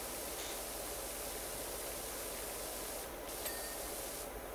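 Pressure washer spraying in PowerWash Simulator, a steady broadband hiss of water jet held continuously and fairly loud, with brief brighter bursts near the end and no talking.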